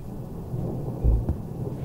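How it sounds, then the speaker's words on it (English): Thunder rolls through a stormy night in the horror game Anthology Of Fear, a short deep rumble that swells briefly over a faint wash of rain. "Is there a storm coming?"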